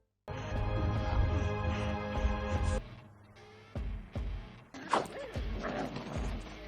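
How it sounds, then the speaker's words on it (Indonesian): A wolf pup howls in a sustained, tonal cry that holds for a few seconds, followed by shorter yips and whimpers, over other background sounds. "Seekor baby Kupa yang dekati Popol diangkat diiringi lolongan sang baby"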